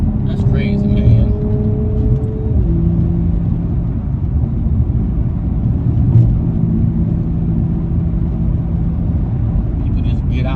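Steady road rumble and engine whir from a car driving along, captured from inside by a dash cam, continuous and fairly loud, with a voice over it.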